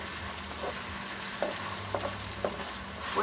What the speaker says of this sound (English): once you fry up the blood